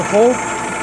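A repaired mini drill press motor hums steadily and close, a continuous mid-pitched running drone with a brief tonal rise near the start and no talking.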